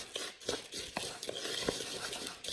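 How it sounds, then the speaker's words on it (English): A small spatula stirs dry protein bar ingredients in a bar maker, giving soft, faint scraping and tapping strokes at an irregular rhythm, with no talk. "I'm just going to actually use this little spatula that comes with the bar maker to stir my dry ingredients together"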